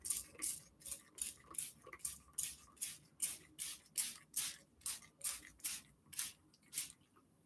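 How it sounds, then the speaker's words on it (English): Starch being sprayed from a Lysol spray bottle onto quilting fabric, about fifteen evenly spaced hissing spritzes in a steady rhythm, close and quiet in an otherwise still room. "I put my starch in a spray bottle, a Lysol spray bottle,"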